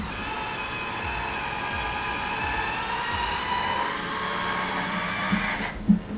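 A Zupora electric wine bottle opener's motor whirs steadily as it pulls a cork from a wine bottle, a continuous close mechanical hum that cuts off near the end with a small click.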